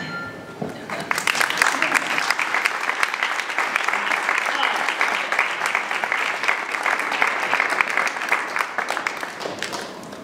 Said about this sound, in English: Or you can just clap.